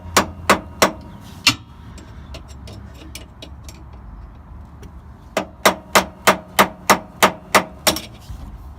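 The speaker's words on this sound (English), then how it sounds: "and just tap it with a hammer" Sharp metallic hammer taps on a screwdriver loosening a bump stop strike in quick bursts, a few at first, then a steady run of about ten evenly spaced blows, loud and close.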